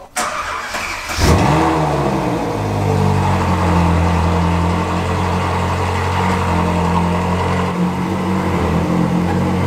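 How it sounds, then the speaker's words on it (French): A Ferrari 458 V8 blips its exhaust in one sharp rev, then settles into a loud, steady, rumbling idle close by, with no voices. "Alors ce que j'adore avec cette voiture, c'est la sonorité à l'échappement"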